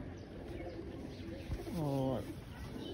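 A pet pigeon gives a single low throaty coo, a rolling rising-and-falling call heard close by, while someone talks quietly before it.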